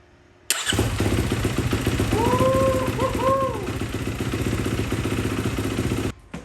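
Motorcycle engine cranking and firing up after months unused, then settling into a loud, steady near idle with rhythmic chugging, cut off abruptly at the end.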